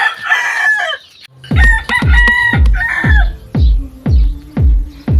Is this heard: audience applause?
no